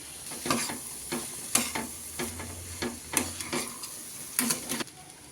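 Lentils and red chili frying in a pan under a steady sizzle, with repeated scraping and stirring strokes coming at a quick, regular rhythm up close.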